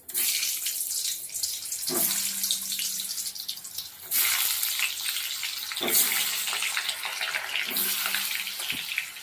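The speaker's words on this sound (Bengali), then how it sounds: "অল্প অল্প করে দিয়ে আগে হালকা লাল করে ভেজে নেব" Turmeric-coated potato pieces dropped into hot oil: loud, close bursts of hissing sizzle surge as each batch goes in, then settle into a steady frying crackle.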